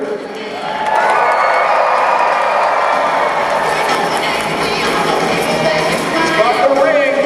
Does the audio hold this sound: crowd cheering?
yes